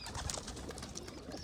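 A pigeon coos softly several times among other birds in a loft with nesting chicks, short rounded notes over faint background chatter and rustling.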